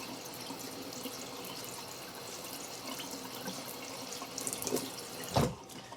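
Water from a tap rinses bee mites off a strainer used for hive sampling, a steady, soft running hiss with a short louder splash near the end.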